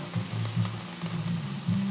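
Food sautéing in a pan while noodles cook nearby, a steady close sizzle with soft repeated scraping and stirring strokes, no voice.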